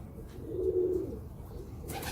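Bankay Rampuri pigeons coo in one low, soft, rolling call midway through, set against quiet background noise with no talking.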